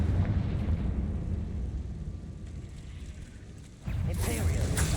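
A Confringo spell blast in Hogwarts Legacy, a low rumbling fiery roar that fades and then flares into a sharp burst near the end.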